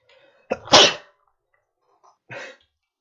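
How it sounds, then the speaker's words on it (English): A sudden, loud sneeze close by, followed after a pause by a shorter, softer burst of breath. "Sorry, sneeze."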